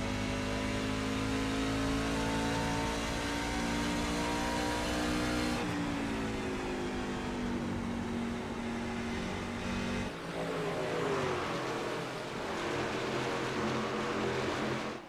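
Several race trucks roar around the Iowa oval under green-flag racing in an online racing league sim event, engines droning steadily close by with pitch rising and falling as they shift and pass, with no pause in the noise.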